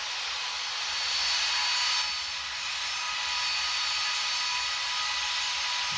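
Boeing 737 MAX 8 jet engines in the Infinite Flight simulator game give a steady, moderate broadband roar that swells slightly midway and then holds even, with no talk.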